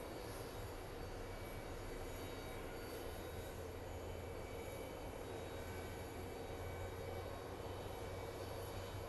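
A CRJ regional jet taxiing at Phoenix Sky Harbor International Airport gives a steady, distant engine whine and broadband rumble. The sound is faint and unbroken, with no voices.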